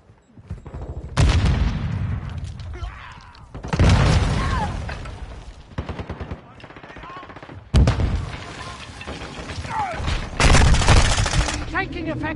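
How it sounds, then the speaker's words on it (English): Rapid bursts of automatic gunfire and heavy booms in the video game Warzone 2, loud and close, coming in several blasts separated by short quieter gaps, with brief radio-style voices between. "Taking effective fire."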